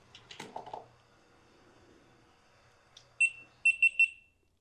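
New GoPro Mission 1 Pro camera alert: after some rustling handling noise, a single clear electronic beep sounds, then three quick beeps in a row, bright and close.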